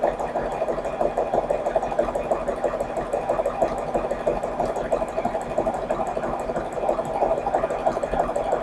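A sewing machine runs a zigzag reinforcement stitch in one continuous stretch, its needle mechanism whirring and buzzing at a steady rapid rhythm, close and loud throughout with no pauses.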